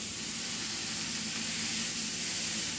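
Leftover ground hamburger meat sizzles in a pan, a constant close crackling hiss with no pauses and no talk.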